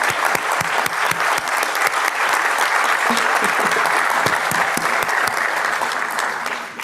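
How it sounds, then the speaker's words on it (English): An audience at a conference welcome session applauds the committee members, dense sustained clapping from many hands at close range that fades slightly at the end. "Let's give them a round of applause"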